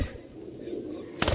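Pigeons coo nearby in a low, soft, rolling murmur that runs steadily, ending with a brief louder rustle.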